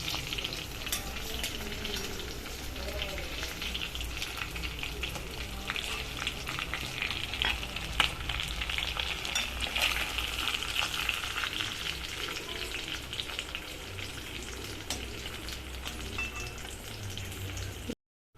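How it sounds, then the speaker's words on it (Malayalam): Fish pieces coated in green peppercorn masala fry in oil over a medium flame, giving a close, steady sizzle with crackles and pops and occasional stirring, ending abruptly. "എന്നിട്ട് നമുക്ക് ബാക്കിയുള്ള മീനിന്റെ കഷ്ണങ്ങൾ എണ്ണയിലിട്ട് വറുത്തെടുക്കാം."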